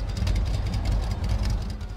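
A Ford GT40 engine in the video game Need for Speed World idles steadily with a low, continuous rumble that holds even throughout, no voices over it.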